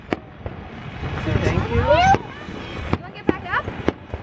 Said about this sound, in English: Fucking love fireworks.